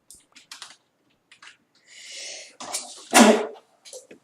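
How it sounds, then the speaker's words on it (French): A single sharp sneeze bursts out after a few quiet breaths and small sounds, loud and close, followed by faint rustling. "Attendez, j'ai envie d'éternuer."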